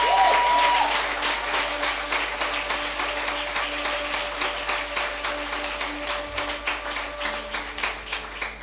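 A church congregation at an Impact Centre Chrétien service in Benin applauds in sustained, rhythmic clapping that starts loud and continues steadily, with faint sustained tones running underneath.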